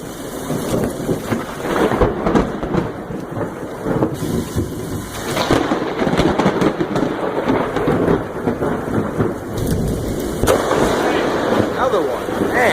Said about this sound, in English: I'm out here grilling and we have a lightning show going on.